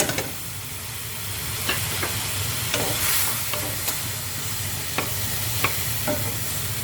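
Green onions and chillies stir-frying with prawns in a hot pan, a loud continuous sizzle and hiss with scattered sharp clicks of stirring spaced a second or so apart.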